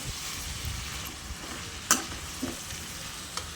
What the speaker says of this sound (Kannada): ಆಮೇಲೆ ಈರುಳ್ಳಿ ಎಣ್ಣೆ ಎಣ್ಣೆಯಲ್ಲಿ ಫ್ರೈ ಮಾಡ್ಕೋಬೇಕು ನೋಡಿ.